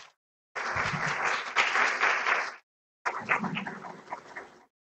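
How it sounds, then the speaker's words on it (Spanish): An audience gives a loud round of applause to welcome a speaker at a science outreach talk, a dense burst of clapping lasting about two seconds, a short pause, then a second slightly thinner round. "Démosle un fuerte aplauso"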